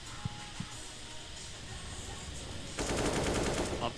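Pistol gunfire in a Counter-Strike match: a couple of faint single shots early, then a dense rapid burst of near shots over steady game noise.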